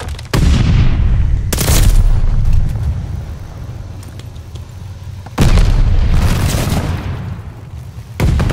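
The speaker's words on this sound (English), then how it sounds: "Throwing stun grenade." Stun grenade blasts in the video game Call of Duty: Vanguard, two loud booming bursts a few seconds apart, each decaying into rumbling noise, with a short sharp hit at the end.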